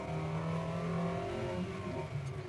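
A Mitsubishi Xpander Cross SUV accelerates hard during a speed test, its engine droning loud and steady close by with tonal harmonics rising slightly, and no talk over it.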